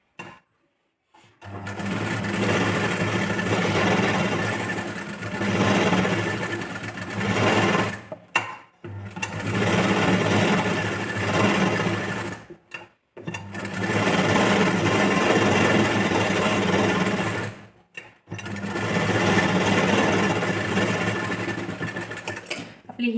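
A sewing machine stitches the cup section of a 32-size princess-cut boat-neck blouse, running in four long steady bursts separated by brief pauses.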